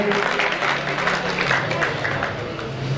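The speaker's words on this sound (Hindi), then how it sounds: "एक बार जोरदार तालियां पवन कुशवाहा के नाम पे।" A gathering of journalists at a local event in Guna breaks into loud applause for an honoured guest, a thick, continuous roar of many hands clapping with a murmur of crowd noise underneath.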